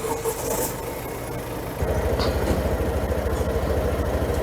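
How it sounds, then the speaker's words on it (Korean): A motorcycle engine cranks and catches, then settles into a steady, close-up idle that stays even for several seconds. "잠깐만요. 시동을 걸을게요."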